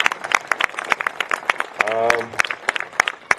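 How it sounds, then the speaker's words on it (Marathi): An audience at an event for an addiction recovery centre bursts into dense, continuous applause, many hands clapping at once, with a voice briefly rising above it midway. "त्यांच्यासाठी जोरदार टाळ्या झाल्या पाहिजेत"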